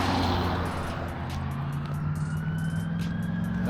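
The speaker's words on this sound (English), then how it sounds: "Wonder where that ambulance is going." A siren from a passing ambulance wails faintly in the distance, rising and falling over steady road and traffic rumble from nearby vehicles.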